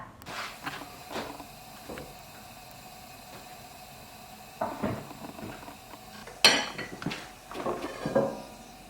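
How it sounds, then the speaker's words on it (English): A frying pan being handled on the stove before frying a Chinese pancake: a few scattered metallic clanks and knocks, a sharper clatter near the end, with quiet gaps between and no talking. "now I'm going to fry it on my pan"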